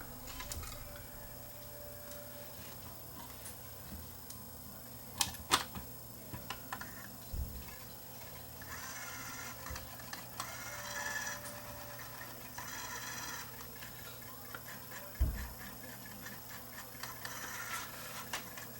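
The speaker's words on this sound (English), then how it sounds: "CD players weren't supposed to make a sound of the disc rubbing on something" Faint mechanical scraping and ticking from a faulty Panasonic SL-NP500 portable CD player, the disc rubbing inside and not spinning properly, with scattered clicks and soft rubbing bursts over a steady low hum.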